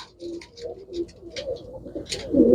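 Domestic fancy pigeons coo close by in a series of soft, low, throaty calls, repeating irregularly with short pauses and growing louder toward the end.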